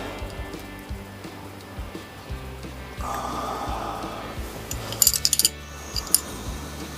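Metal push rods clink and tick sharply while being handled and set into an engine long block during assembly, a quick cluster of light metallic taps followed by one more, alone over a low steady background hum.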